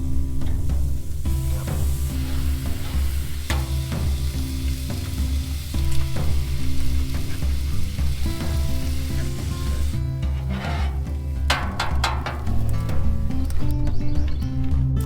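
Butter sizzling and frying in a pan while breakfast croissant sandwiches are cooked at a campsite on a trout fishing trip in Kolob, a steady crackling sizzle throughout with occasional scraping and clinks, no talking.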